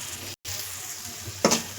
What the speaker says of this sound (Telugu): ఎందుకంటే పచ్చిమిర్చి వేసాం కదా, అదంతా పచ్చివాసన పోయే వరకు మంచిగా వేయించుకోవాలి